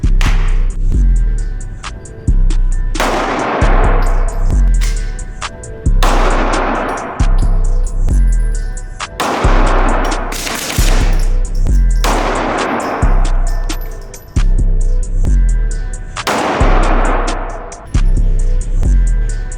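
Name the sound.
9mm handgun gunshots at shooting range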